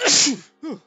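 A loud, close sneeze bursts out, followed by a shorter second sneeze after a brief pause, during a tabletop role-playing game session.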